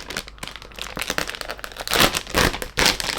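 Plastic film packaging of a Christmas-themed blind box tearing open, a close, loud run of crinkling and ripping rustles that swells into two sharper tearing bursts near the end.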